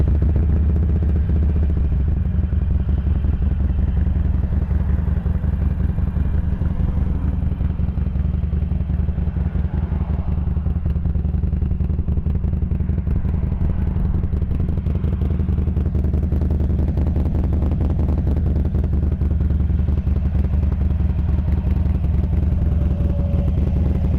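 A Harley-Davidson Sportster 883 Iron XL883N idles steadily for the whole stretch, a low, continuous engine rumble close by with light mechanical clatter and no voices.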